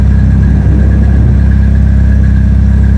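A Nissan 240SX engine with a freshly installed DC header and 3-inch catback exhaust idles steadily at close range, a loud, deep, even drone with no one talking.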